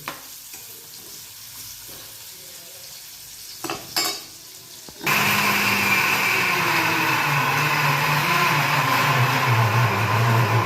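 Mixer grinder blending green masala paste, starting abruptly partway in and running as a loud, steady whirring grind, preceded by quieter kitchen handling sounds.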